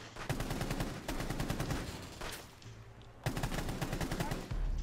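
Rapid automatic gunfire in the video game Rainbow Six Siege: dense bursts of sharp, rattling shots in two main volleys with a short lull between them, fairly loud throughout.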